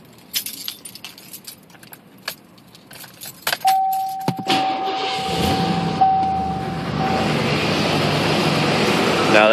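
Car engine starting and then idling loudly with an exhaust leak, a rough steady roar that stays close and constant after keys jangle and a brief whine sounds over it.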